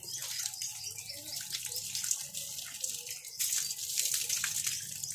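Water pours steadily to rinse shampoo out of hair, a continuous broadband splashing and running stream that holds close and fairly loud throughout, with a brief surge partway through.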